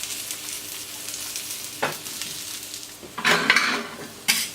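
Spiced potatoes fry in oil on a hot plancha with a soft, steady sizzle, broken by a few louder bursts of hissing and metallic scraping as they are stirred and turned.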